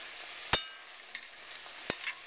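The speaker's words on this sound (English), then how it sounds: "I'm going to actually just stir it up to get everything incorporated here." A spicy vegetable soup cooks down over medium heat in a pot. A faint low simmer runs under two sharp, close clacks of a spoon against the pot and a softer stirring scrape.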